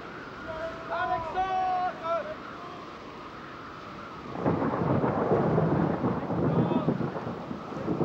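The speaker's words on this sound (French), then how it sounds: "Tâchons de rentrer avant l'orage. Il finira par éclater." A thunderstorm breaks with a broad, heavy rumble of thunder and rain filling the last half, loud and sustained, after a quieter opening where tonal voices or music sit over faint background noise.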